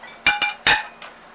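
A white dinner plate is set into the rack of an 18-inch Kenmore portable dishwasher, giving a few sharp, close ceramic clinks and knocks in quick succession, with no talking.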